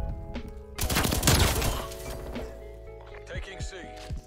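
Stoner 63 light machine gun fire in Call of Duty Cold War, a loud sustained burst of automatic shots with impacts, followed by quieter game sounds, with someone talking over it.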